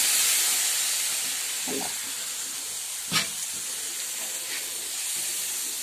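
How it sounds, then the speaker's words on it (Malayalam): Hot water poured into a pan of cooking tomatoes for chicken curry sends up a loud hissing sizzle that gradually fades, with a few brief clinks of a utensil. "അല്പം ചൂടുവെള്ളം എടുത്ത് തക്കാളി അല്പം ഒന്ന് വേകാനായിട്ട് ഒഴിച്ചു കൊടുക്കാം"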